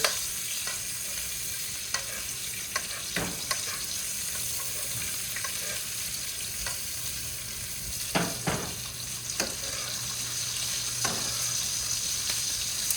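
Steak sizzles in a frying pan while melted butter and rendered fat are spooned over it, a constant close crackle broken by scattered clinks and scraping strokes.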